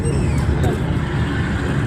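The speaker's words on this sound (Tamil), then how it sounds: "ஒரே டிராஃபிக்கு இந்த தெரு எப்பயுமே பிஸியாக தான் இருக்கும்" Busy street traffic on a market street in Mannargudi, a dense steady mix of vehicle engines and crowd babble close by, with a brief hiss like an air brake early on.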